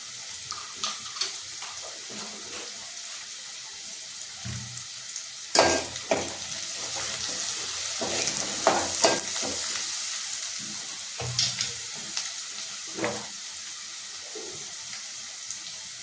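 Asafoetida is dropped into hot oil for a usal, and a steady frying sizzle continues while a spoon scrapes and stirs in occasional louder bursts, nearby and unaccompanied by speech.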